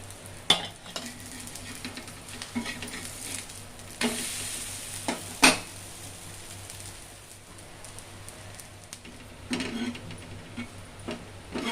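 A little oil is poured around batter already cooking in a pan over low heat. A steady close sizzle hisses throughout, broken by a few sharp pops and crackles, with no talking.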